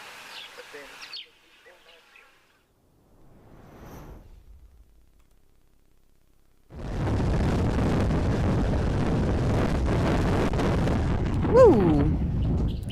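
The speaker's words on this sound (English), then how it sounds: "Apologies if you do hear the wind" Quiet, sparse noises give way to a loud, blustery roar of wind buffeting the microphone at a wildlife dam camera in the African bush, continuing steadily, with a brief whistle-like sound near the end.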